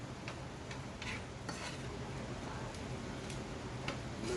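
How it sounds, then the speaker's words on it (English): Ground chuck simmers in a pan for goulash, giving a steady, soft sizzle with faint scraping and ticking of a utensil stirring the meat, close and continuous throughout. "Let that simmer for about 2-3 minutes."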